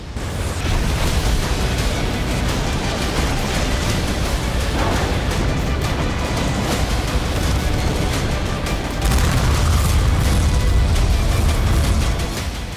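An anti-ship missile launches from the Indian Navy warship INS Prabal, fired at a decommissioned Godavari-class ship. A loud, sustained roaring rush holds for the whole stretch and swells deeper near the end.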